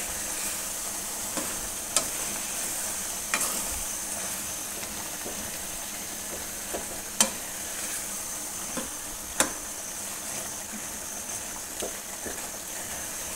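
Chicken karahi with potatoes fries in a pan, a soft steady sizzle with occasional sharp clinks and scrapes from a spatula, fairly quiet throughout.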